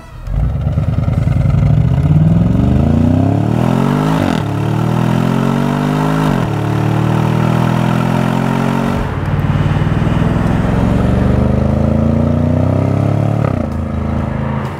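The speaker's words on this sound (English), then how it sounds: "German V8 exhaust notes are like James Bond villains." A 2018 Audi S6 V8 exhaust revs loudly and close up in repeated rising sweeps, each pull climbing in pitch before dropping back, with a deep steady rumble between the bursts and no talking.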